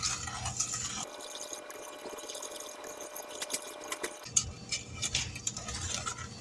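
A spoon stirs blackberry jam with sugar in a pot over medium heat, giving soft repeated scraping and sticky patter, faint and close, with a quieter pause in the middle.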